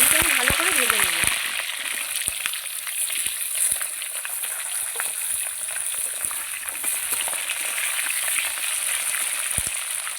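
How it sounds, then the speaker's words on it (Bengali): Potatoes fry in hot oil for a rohu fish curry with a loud, close, continuous sizzle and scattered crackles, while a voice briefly speaks at the start. "আলুটা আমি ভালো করে ভেজে নেব"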